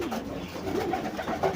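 Pigeons coo softly in a pigeon loft, with several low, rolling calls overlapping close by against a faint background hum.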